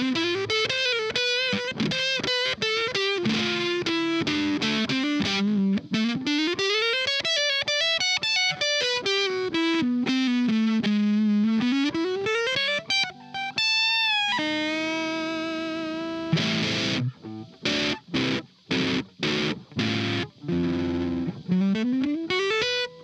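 Electric guitar played through a Voland Rusty Boi fuzz pedal with its boost engaged, bass turned down: loud, continuous distorted sliding notes and bends, then choppy stabbed chords with short gaps near the end.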